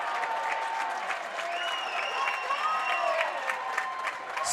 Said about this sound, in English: Got it, and you hear the crowd reaction. They're pumped up.